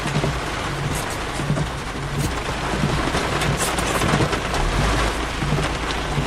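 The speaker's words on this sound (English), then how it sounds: "That's how heavy the rain is." A dense, steady downpour pours down during a strong Florida thunderstorm just offshore, with loud close rain hiss and low thunder rumble beneath it and no voices.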